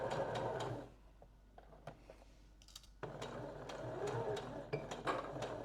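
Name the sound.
sewing machine stitching a dart in fabric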